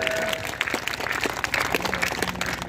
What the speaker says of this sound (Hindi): आप सभी लोग तालियां बजा करके हमारे माननीय विधायक जी का स्वागत करें, अभिनंदन करें